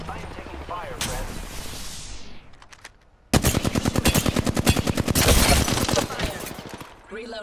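Rapid automatic gunfire in a video game firefight, loud and close, arriving as dense bursts of shots after a brief lull, with voices heard in the mix.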